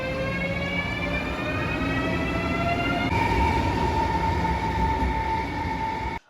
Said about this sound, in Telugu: సో ఇప్పుడు ఈ ట్రైన్ ఇంకో ఊరికి వెళ్ళిపోతుంది